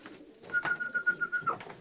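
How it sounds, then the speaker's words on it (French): Pigeons cooing in a racing pigeon loft, soft throaty coos with a steady tonal whistle running beneath them, close and clear with no talking. "À l'extérieur, les pigeonniers, là où transitent sous haute sécurité les oiseaux vendus sur le site."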